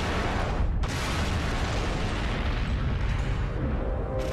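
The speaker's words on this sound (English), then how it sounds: "The explosive will simultaneously launch the alcohol upwards and ignite it, creating a fireworks show that's effin' amazing." Homemade firework mortars loaded with methyl alcohol blast fireballs skyward in a loud, sustained roaring rumble of launches and flame bursts outdoors, with one brief dip in the middle and no voices.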